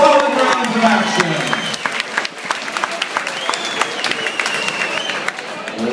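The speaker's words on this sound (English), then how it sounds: "let's have a great round of applause for both fighters" A boxing-event crowd applauds both fighters after four rounds of a pro bout, a loud burst of clapping and cheering that fades into scattered claps and crowd noise, with a voice calling out over it.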